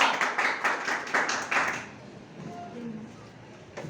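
Students in a classroom clap together in a quick burst of about two seconds, dense and fairly close, before it falls to a quiet room with faint voices.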